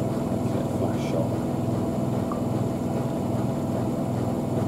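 A Miele W5000WPS Supertronic washing machine drum accelerating in its final spin, a loud, steady, jet-like roar with a rhythmic pulsing hum underneath, close and continuous throughout.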